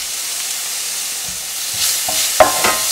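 Onions sauté in a pan over a medium flame, a soft steady sizzle broken by a few scraping stirs and light clinks toward the end, close and moderately loud with no talking.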